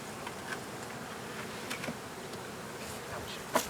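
Honey bees, nurse bees at a hive in a squirrel nest, buzz softly in a steady background drone, with a few louder passes close by.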